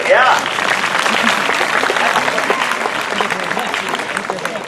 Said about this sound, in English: applaud these young people down here